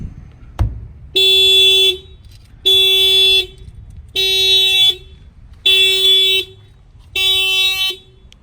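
Factory car alarm of a Honda Civic, set off by an add-on shock sensor, sounding five loud, evenly spaced horn blasts close by after an initial thump.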